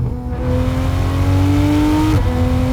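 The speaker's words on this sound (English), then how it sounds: "This PDK transmission, just watch this for a second. So we'll go down to third gear." A 2016 Porsche 911 GT3 RS with PDK transmission drops to third gear. The engine's steady, loud revving note climbs, then snaps sharply with a quick blip at the instant shift.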